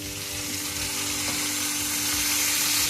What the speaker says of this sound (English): Let's flip the bacon